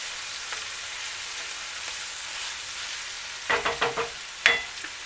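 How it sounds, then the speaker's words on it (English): Sausage and vegetables fry in a home kitchen pan, a quiet steady sizzle followed by several short clattering bursts of stirring and scraping near the end. "the sausage is starting to brown up real good and my veggies are getting tender"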